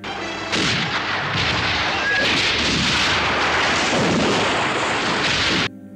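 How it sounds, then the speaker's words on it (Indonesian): Sustained, loud battle gunfire in a film scene of American soldiers ambushed by Indians, dense overlapping bursts and booms with a roaring continuous background for several seconds, then cutting off abruptly. "Terjadi baku tembak yang sengit."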